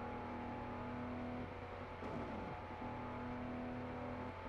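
A 1400 hp F250 street rod in Car Mechanic Simulator 2018 holds a steady, loud, sustained engine drone at top speed with a seven-speed gearbox topped out, with a brief shift in pitch midway and no talking.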